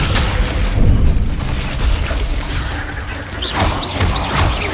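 Confringo spell explosions in the Hogwarts Legacy video game, a loud dense burst of rumbling booms and crackling debris that dips briefly and swells again, with whistling magical effects near the end.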